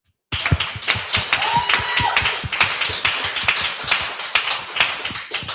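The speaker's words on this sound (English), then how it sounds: "let's give a round of applause for Silent Quill" A small audience at an artist appreciation gathering gives a round of applause for a performer: a lively, close run of distinct hand claps lasting about five seconds, with no speech over it.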